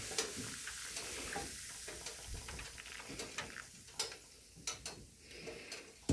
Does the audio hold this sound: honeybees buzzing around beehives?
no